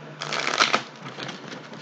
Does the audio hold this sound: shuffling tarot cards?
yes